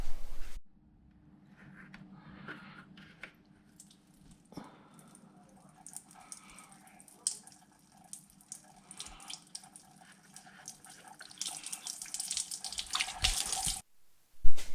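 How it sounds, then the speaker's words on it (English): Coolant drains from the radiator drain plug of a 1995 Honda Civic EG track-car build, a steady trickle and patter of liquid that lasts most of the stretch and grows louder and splashier toward the end. "there's a little bung underneath here. Just pop that open and just let it all drain out"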